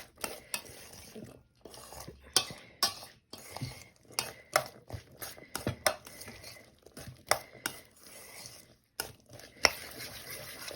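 A spoon scrapes the last honey off the side of a bowl of mango salsa, making a run of quick close taps and scrapes in an uneven rhythm, fairly quiet with no one talking.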